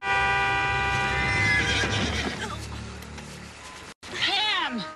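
Horse whinnying loudly near the end, a descending neigh standing out after talk and sounds from an animated scene.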